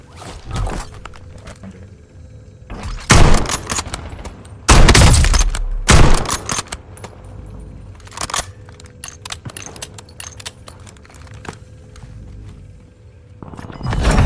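Heavy gunfire in Warzone as the player takes hits, with loud bursts of shots clustered around the middle and a final burst at the end, separated by quieter battlefield ambience and scattered impacts.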